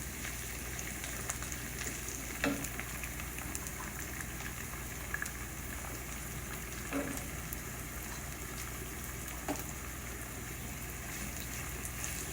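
Onions fry in oil while lentils and pumpkin cook for a dal, a soft, steady bubbling sizzle at low volume with a few faint clinks, and nobody talking.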